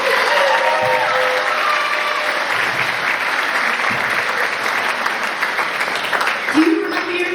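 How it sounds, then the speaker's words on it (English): An audience at a school graduation claps in a full, continuous round of applause lasting several seconds, with a faint voice or tone threading through the crowd noise. "Give yourself a round of applause and a pat on the back for your years of hard work."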